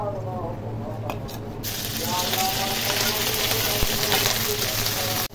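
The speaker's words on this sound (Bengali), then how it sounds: "আদা আর কাঁচা লঙ্কা কেটে নিয়েছিলাম, ওগুলো ভেজে নেব।" Cut ginger and green chillies hit hot mustard oil for a grated mango pickle, a soft background hum giving way to a bright, steady crackling sizzle that runs close and loud until it cuts off.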